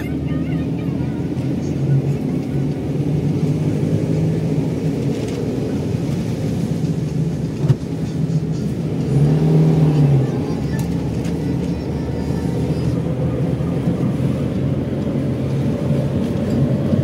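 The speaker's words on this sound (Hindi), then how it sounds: "ये चल गई गाड़ी" A car moves along, its engine and road noise forming a loud, steady rumble throughout with a short tonal whine near the middle; people talk over it at times.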